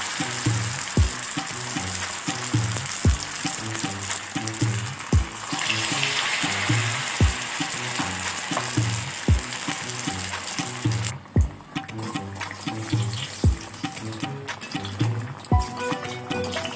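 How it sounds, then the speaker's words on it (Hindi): Batter-dipped chicken and potato pinwheels sizzle and crackle in hot oil over a low flame, a steady close frying hiss with regular sharp clicks repeating about every second, and no talking. "और अब हम एक एक करके तेल में डाल देते हैं।"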